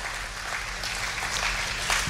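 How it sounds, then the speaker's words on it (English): A worship congregation at a Hawaii church service claps in praise, a steady wash of applause with a low hum underneath, continuous for two seconds. "a clap of praise to our God"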